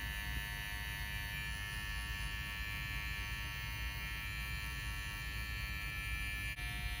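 Electric hair clippers buzz continuously as the blade corner cuts a drop fade, a steady close hum with one brief dip near the end.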